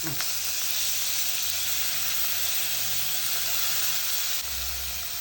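Shallots and garlic fry in hot oil in a pan, giving a close, constant crackling sizzle that holds steady from start to finish.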